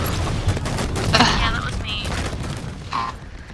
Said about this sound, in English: Someone had the Halo 1 pistol.